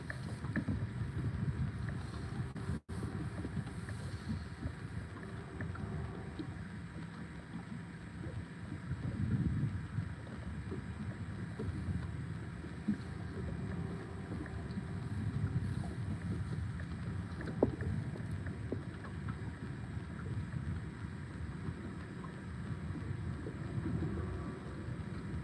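Steady wind noise blows across the Ohio River, with a low continuous rumble and buffeting that holds throughout, unbroken by voices.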